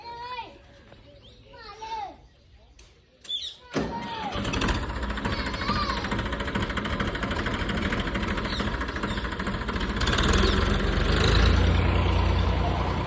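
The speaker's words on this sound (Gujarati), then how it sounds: "ભાઈ હવે ટ્રેક્ટર સાઈડમાં મૂકી દેશે" A tractor engine idles steadily in the foreground, its low rumble continuous, while children's voices chatter and call out nearby earlier on.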